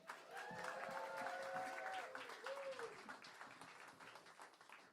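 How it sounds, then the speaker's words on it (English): Comedy club audience applauding between comics, a steady wash of clapping with cheers, while a voice talks over it in the first half before the applause thins out toward the end. "Please keep that applause going."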